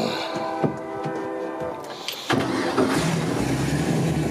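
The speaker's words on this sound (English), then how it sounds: "I'll give it a quick start for you so you can hear it fire up" A river boat engine cranks briefly and then fires up, settling into a steady, rumbling idle that carries to the end, close and fairly loud with no talking.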